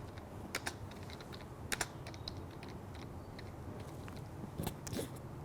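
Typing on a computer keyboard while writing Python code, light irregular key clicks with a few sharper taps, quiet and close in a still room.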